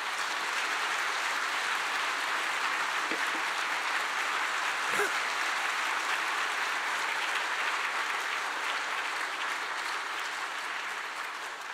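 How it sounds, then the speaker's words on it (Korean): A church congregation applauds the newly installed Methodist pastor at his installation service, a long, even wash of many hands clapping from across a large room. "우리 목사님께 여러분 박수 한번 보내주시기 바랍니다"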